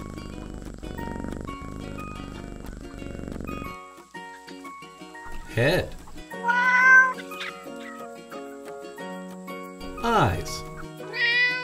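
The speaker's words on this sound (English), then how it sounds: "Cat." A cartoon cat meows twice, drawn-out wavering cries, over light children's music, with a voice briefly speaking in between.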